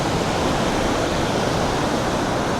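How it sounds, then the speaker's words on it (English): Ocean waves at Kata Beach, Phuket, whipped up by the southwest monsoon swell, make a continuous loud roaring wash of surf with no voices. "The monsoon has a way of picking up the waves."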